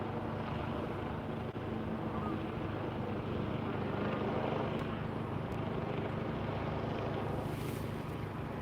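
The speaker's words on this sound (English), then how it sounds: "he's just hovering right above me, this helicopter." A helicopter hovers steadily right overhead at an accident scene, a constant low rumble and whir that never lets up, with some wind buffeting.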